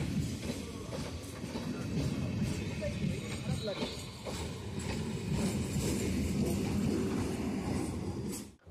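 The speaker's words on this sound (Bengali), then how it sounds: "তো এখন আমাদের ট্রেন মাঝেরহাট স্টেশন ছেড়ে বেরিয়ে যাচ্ছে" Local train from Majerhat to Barasat pulls out of Majerhat station with a steady low rumble and rattling wheel clatter, heard from inside the carriage at a constant loud level.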